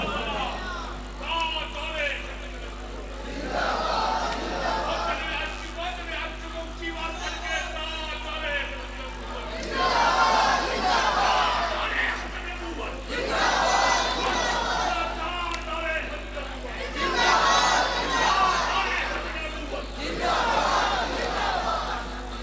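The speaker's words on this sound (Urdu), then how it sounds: "یہ نعرے جو آپ لگاتے ہیں" Audience at an Islamic religious gathering chanting slogans in unison, loud rhythmic crowd calls rising in repeated waves every few seconds over a constant low hum.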